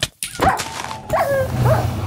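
A dog whimpers and yelps in a modded Minecraft game: several short, rising whines close up, with brief pauses between them and no talking.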